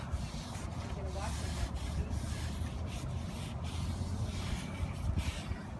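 A cloth wipes the rear brake rotor of a 2006 Cadillac CTS clean, making quiet, continuous rubbing and scrubbing strokes up close.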